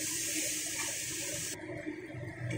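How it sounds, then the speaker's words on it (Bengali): Water poured into a pan of vegetables and spices frying for a dried-shrimp chachori, a steady hissing rush that cuts off midway and leaves a softer sizzle. "তারপরে সামান্য একটু জল দেব।"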